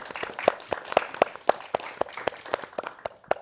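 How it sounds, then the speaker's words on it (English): A small audience applauds after a speaker is introduced, with distinct individual claps popping out in an uneven rhythm; the clapping is fairly quiet and thin. "Can we please get a round of applause for Justin McDaniel?"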